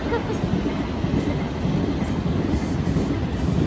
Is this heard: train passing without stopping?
yes